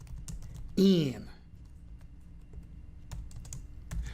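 Typing on a computer keyboard while writing pytest test code, with soft key clicks scattered through the clip, mostly at a low level and sometimes under a brief spoken word.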